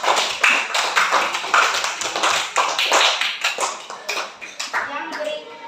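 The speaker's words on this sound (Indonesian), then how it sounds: "Tepuk tangan untuk kelas 4." A room of schoolchildren claps for their fourth-grade class during a multigrade lesson, with a steady patter of hand claps lasting several seconds and fading slightly toward the end.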